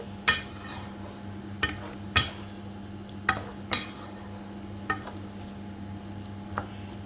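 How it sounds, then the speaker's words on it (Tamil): A spoon stirs chana masala in a cooking pot, with sharp metallic clinks against the pot every second or so over a low, steady sizzle and hum. "நல்ல மசாலா உள்ளே இறங்குற அளவுக்கு நல்லா கிண்டிடணும்"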